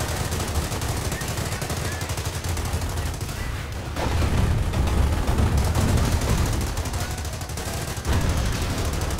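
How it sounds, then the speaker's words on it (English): Constant mortar and artillery fire in a Company of Heroes base siege: dense, continuous rattling gunfire and booming impacts fill the whole stretch, a steady loud battlefield din with no pauses. "Got constant mortar fire over there."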